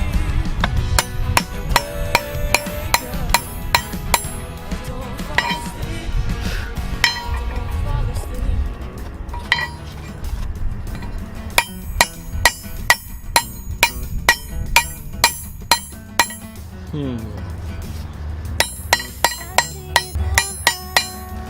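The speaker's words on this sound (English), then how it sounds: "I'm going to try to see if I can round the ring back out by hitting directly in the center of it with the ball peen hammer" Repeated sharp metallic clinks from a ball peen hammer striking the bent metal ring of a handmade karambit knife, coming in irregular bursts with pauses between strikes, close and fairly loud.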